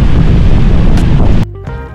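Loud, close wind roars and buffets the microphone during a bicycle ride, cutting off abruptly partway through to leave a quieter background.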